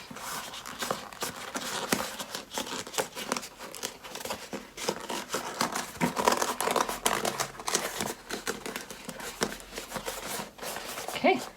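Fingers rub and press along the seam of an EVA foam helmet, making continuous close crinkling, scuffing and squeaking with irregular soft bursts throughout.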